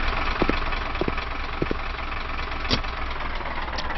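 A U-boat diesel engine in a submarine simulator game drones steadily at close range, a constant low rumble with a few brief knocks and clicks over it.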